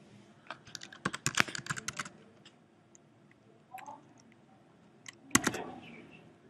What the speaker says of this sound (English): Let me continue typing.